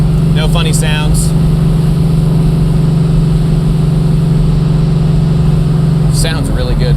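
A 1973 Ford Mustang Mach 1 tribute with a 351 V8 drives along with a steady, loud mid-pitched engine drone held at constant throttle, and a voice briefly heard at the start and near the end.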